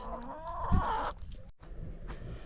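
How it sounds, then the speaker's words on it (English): Guinea fowl cluck and call close by on a summer evening, one bird's rising, strained cries sounding over a low outdoor background with fainter calls behind. "The guineas are laying again."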